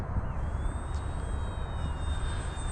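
An FMS Ranger 1220 RC trainer plane flies close by with a continuous electric motor whine over steady wind rumble, holding at a constant level with no talk.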